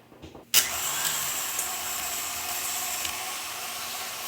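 A KitchenAid stand mixer powering an apple peeler attachment starts up abruptly and keeps running with a steady, close motor whine and faint mechanical ticks.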